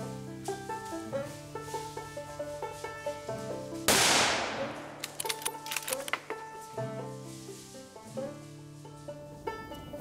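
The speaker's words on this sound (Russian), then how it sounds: "Хороший выстрел в детеныша лани." A single sharp hunting rifle shot at a fallow deer fawn cracks out over a steady musical background, its burst ringing briefly before fading back under the music.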